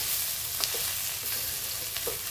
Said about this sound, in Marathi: कांदा आपला परतला पण आणि सॉफ्ट पण झालेला आहे।